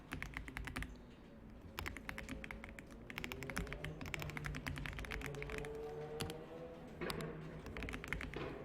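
Rapid typing on a computer keyboard, bursts of quick close key clicks with short pauses between runs and a few heavier keystrokes, over a faint hum.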